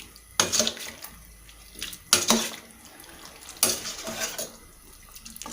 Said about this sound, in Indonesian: Nah, kita aduk aja.